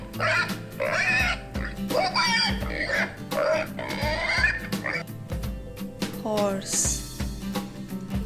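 A farm pig grunts and oinks in a quick run of short, nasal snorts close to the listener, ending with a higher squeal over a faint steady backing.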